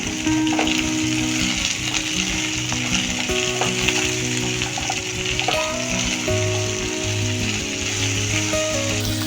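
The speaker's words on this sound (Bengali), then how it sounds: "ভাজাটা একটু হয়ে যাক, বেশি তো ভাজবো না, ডাটার রংটা পাল্টে যায়।" Drumstick (sajne) stems frying in oil in a pan, giving a steady, close sizzle with crackles throughout and no talking.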